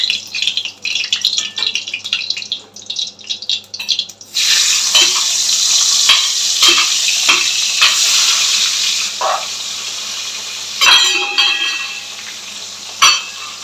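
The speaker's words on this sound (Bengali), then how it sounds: "তো মাছটা আগে ভেজে নেব।" Fish frying in a pan of hot oil, a steady loud sizzle with crackling spurts that rises sharply once the fish goes in and continues unbroken, with a few clinks of a utensil.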